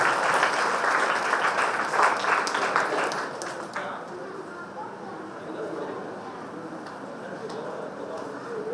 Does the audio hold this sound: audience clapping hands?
yes